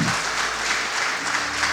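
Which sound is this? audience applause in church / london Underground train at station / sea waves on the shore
audience applause in church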